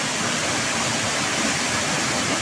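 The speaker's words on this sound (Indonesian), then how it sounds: "turunnya air terjun membawa angin, dan percikan dari air terjun tersebut terbawa ya pemirsa ya oleh angin" Waterfall at Curug Cigorobog in Sumedang at night, a steady broadband roar of falling water with spray carried on the wind, loud and continuous throughout with no voices.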